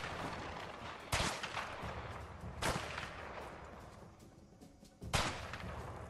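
Gunfire in the video game A Way Out: three sharp, loud shots spaced a second or more apart, each a sudden crack with a short tail, over a low background rumble.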